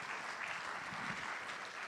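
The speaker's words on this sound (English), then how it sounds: "let's give a big round of applause for the band," A church congregation at a Sunday service gives the band a round of applause, a soft, distant, even patter of clapping that continues without a break.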